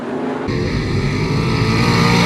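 A 305 sprint car roars loud and close through turns 3 and 4 at Attica Raceway Park during a dirt-track heat race, its engine bursting in after a brief lull and holding a steady, sustained high-pitched howl.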